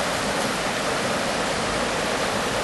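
The Beaver River flowing through Ogden City, Utah, a steady, even rush of stream water heard close and continuously, with no voices.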